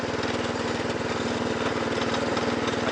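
A Snapper riding mower with a Tecumseh engine runs steadily, with a throbbing, even mid-pitched engine drone and a rough, buzzy exhaust pulse, close and continuous without talk.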